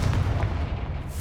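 Confringo blast spell from Hogwarts Legacy bursts with a deep, rumbling explosive boom that rolls on and fades over about a second, with no talking.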